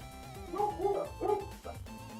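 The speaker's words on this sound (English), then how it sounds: "Sorry if you guys can hear my dogs barking." A few dog barks and yips at moderate distance, spaced irregularly over a steady indoor hum.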